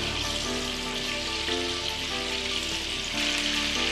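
Chicken pieces frying in hot oil for a Kashmiri chicken masala curry, giving a steady, loud sizzle with dense crackling throughout and no talking.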